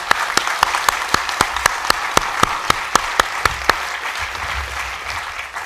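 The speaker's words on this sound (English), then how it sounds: "it'll be my honor to lead the round of applause to the people that made this possible." Sharp, evenly spaced hand claps ring out in a steady beat at an INTERPOL regional conference speech, briefly louder in the middle before thinning out toward the end.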